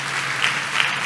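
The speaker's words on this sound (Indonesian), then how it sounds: "Kasih tepuk tangan yang meriah untuk Tuhan Yesus." Church congregation applauding loudly and steadily in a sustained burst of clapping during a sermon service.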